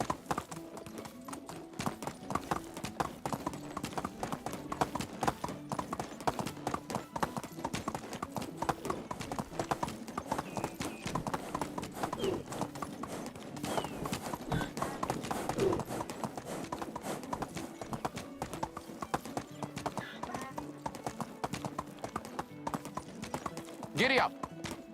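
Horse hooves clip-clop in a steady trotting rhythm while riding in the medieval video game Medieval Dynasty, continuous and fairly close throughout, with music and a voice underneath.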